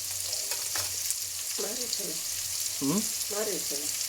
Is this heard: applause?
no